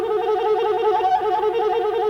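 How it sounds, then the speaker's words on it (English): Recorder playing the Austro trill with fingers 5 and 6, a steady, close, continuous rapid trill with a clear warbling tone held for about two seconds before cutting off. "On page 2, we have the famous Austro trill."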